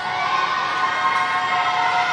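Crowd at a college men's basketball game in a gym, North Greenville at home in Tigerville, making a steady, dense roar of shouting and cheering during free throws, sustained and fairly loud throughout.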